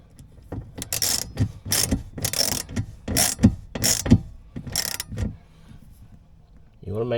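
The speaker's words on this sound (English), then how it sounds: "Then I'll do my manual ratchet to put them in the rest of the way." Manual ratchet tightening bolts during an accessory install on a Honda Passport, a run of sharp clicking bursts that stops partway through, close to the mic and mixed with faint speech.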